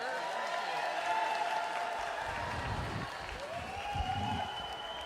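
An audience in a room at the Capitol claps for a senator at a disability services event: a steady, dense round of applause that carries on throughout, with a voice briefly audible.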